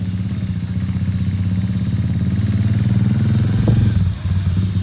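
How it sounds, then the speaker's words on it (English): A motorcycle engine runs loud and close with a steady, throbbing idle-to-rev drone as a beginner learns to ride, the pitch rising slightly before a clunk and a brief drop in the engine note near the end. "When you feel the bike go like that, you need more gas."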